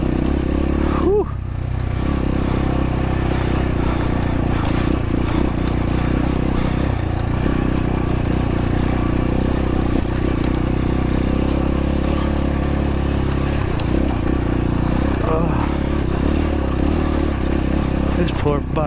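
A dirt bike engine drones continuously and loudly while climbing a rocky, sandy mine trail, with occasional clatter from the rocks and a rider talking over the engine at times.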